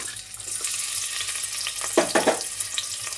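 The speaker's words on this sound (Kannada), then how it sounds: "ಚೆನ್ನಾಗಿ ಫ್ರೈ ಮಾಡ್ಕೊಳ್ಳಿ" Chopped onion fries in ghee in a pan over low heat, a soft hissing sizzle with a couple of louder bursts of crackle as it is stirred, close by and without talk.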